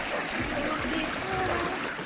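Clear river water flowing near Katapang Falls in Pagbilao, Quezon, a close, steady rushing and trickling wash that carries unbroken through the short stretch.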